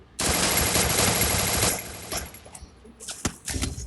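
Rapid automatic gunfire from a shooting video game rattles loudly in a sustained burst, then fades into a few scattered shots and clatters, with no talking.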